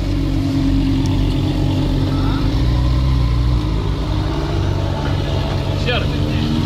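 A Ferrari 458 engine drones at an international drag race event, a steady loud rumble holding throughout, with people talking over it.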